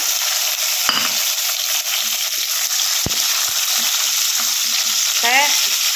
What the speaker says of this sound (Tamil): எல்லாத்தையும் வந்து நல்லா வதக்கிக்கலாம்